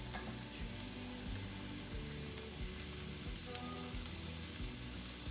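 Frozen vegetables and garlic fry in a pan with a steady, dense sizzle and crackle, joined by faint scraping or stirring sounds, continuous and close with no talking.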